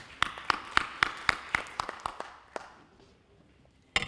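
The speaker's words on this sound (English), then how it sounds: "big round of applause for him" A conference audience gives a speaker a round of applause: sharp, evenly spaced claps at a brisk pace that thin out and fade after a couple of seconds, ending with one last clap.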